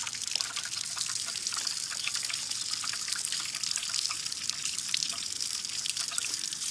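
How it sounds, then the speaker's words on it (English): Hot water flowing steadily into a small titanium heat exchanger, a continuous bright hiss and trickle with scattered drips, moderately close and unbroken. "Hot water's coming on."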